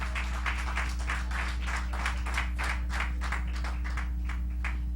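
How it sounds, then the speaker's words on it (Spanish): A church congregation claps together in a steady rhythmic beat, a continuous run of sharp hand claps over a constant low electrical hum, with no voices. "Vamos a darle un aplauso al Señor."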